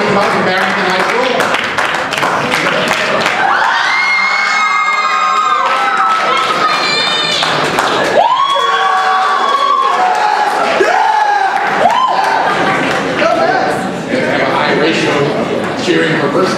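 A loud audience cheers, shouts and screams for quiz contestants throughout, with high young voices rising above the din and a few thumps among them.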